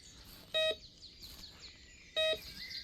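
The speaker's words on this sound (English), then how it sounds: "follow the beeps" Two short electronic beeps from a metal detector about a second and a half apart, a clear tone over faint outdoor background with birds chirping.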